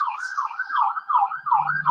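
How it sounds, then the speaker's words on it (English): A wailing siren rising and falling in a steady warble, fairly close and loud, with a low hum creeping in near the end. "siren."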